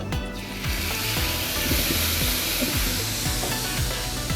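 Loud, steady sizzling and crackling of shrimp frying in a hot pan, a continuous bright hiss with no talking.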